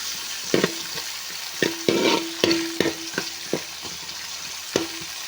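Chopped onions sauté in oil with mustard seeds and fenugreek, sizzling steadily while a spoon stirs and scrapes the pan in irregular knocks, close and fairly loud with no talk.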